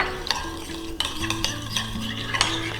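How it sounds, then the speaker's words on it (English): A spoon stirs sour cream and milk in a bowl, scraping and clinking against the sides in irregular strokes, close and fairly loud with no voices. "In another bowl, mix the sour cream and milk until it's nice and smooth."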